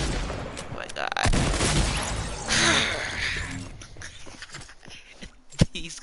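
Bursts of gunfire from guns in the Fortnite video game, a dense fusillade of loud, rapid cracks through the first seconds, thinning into scattered shots with one sharp report near the end.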